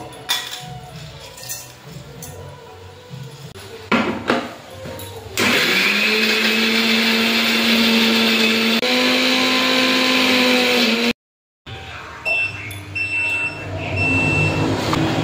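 An electric mixer grinder grinds spices, whirring loudly and steadily for several seconds, stopping briefly, then starting again, after some clinking and handling noises.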